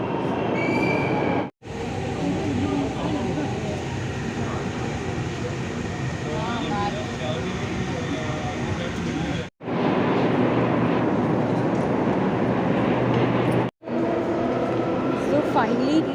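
Noida metro train on the Aqua Line arriving at a station, with a loud, continuous rumble of rolling carriages and wheel squeal. Brief gaps break the noise, and faint voices may sit underneath.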